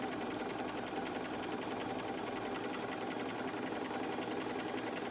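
A sewing machine runs steadily for the full stretch, stitching a candle rug jar gripper with a fast, even motor whir and rapid needle clatter, close and loud with no talk over it.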